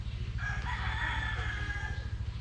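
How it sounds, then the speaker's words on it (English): A couple of roosters crow during a daytime walk in Angeles City, Philippines, one clear cock-a-doodle-doo call rising over a steady low background hum. "A couple roosters."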